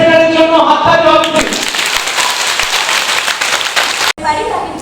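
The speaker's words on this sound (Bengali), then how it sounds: "ট্রেন্ড সেটারের জন্য হাততালি হবে।" Applause for a student at a girls' school session in Haldia, Medinipur: dense, steady clapping fills most of the clip, cuts off sharply near the end, then resumes more thinly.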